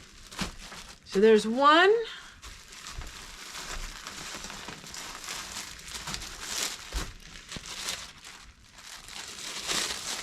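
Plastic freezer bags crinkle and rustle close by as they are handled and cut, in soft scattered bursts, under intermittent talking and a brief louder vocal sound near the start.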